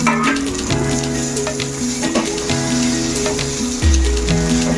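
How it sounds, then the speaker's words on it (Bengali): A paste of ginger, garlic, onion and green chili fries in a pan over browned onions, crackling with a loud, steady sizzle punctuated by stirring clatter and a heavier scrape near the end. "এটাকে এবার একটুখানি ভাজা করে নেবো ভালো করে।"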